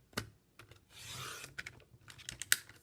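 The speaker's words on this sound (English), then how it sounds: "Then our aqua cardstock, which is our last cut, we're going to cut that at 6 inches." Aqua cardstock being cut on a paper trimmer: a few quick, close clicks and taps, then a short scraping slide of the blade across the sheet, followed by more small clicks as the paper is shifted, with no voice.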